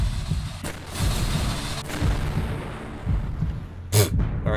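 Gunfire from an enemy strafing run in a video game: low rumbling bursts of shots and booms under a continuous game soundscape, with a sharper, louder blast near the end.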